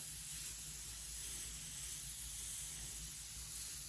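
Spray paint sprays out of a can in a steady close hiss that holds even and unbroken, with no voices.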